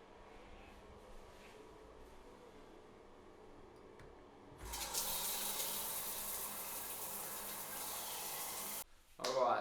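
A cold shower bursts on after a few quiet seconds, its spray hissing steadily and fairly loud, then it briefly cuts out before surging back at the very end.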